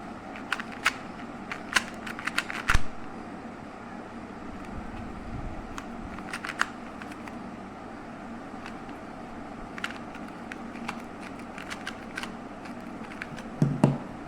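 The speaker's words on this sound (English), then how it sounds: "Now let me test this cube by shuffling and doing." Small 2x2 speed cube turning fast in the hands during a solve, with quiet irregular plastic clicks and brief rattling bursts over a low steady background hum.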